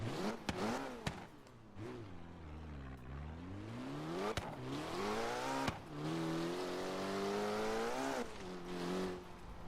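KTM X-Bow sports car in the racing game Forza Horizon 3, its engine revving and shifting through gears with rising and falling pitch, loud and continuous with brief sharp gear-change breaks.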